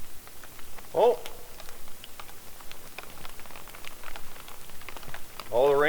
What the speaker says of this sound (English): all the rain's starting